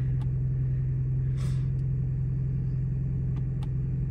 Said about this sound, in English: when I went to race, you could tell the engine got louder